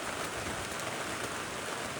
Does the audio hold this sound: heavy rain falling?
yes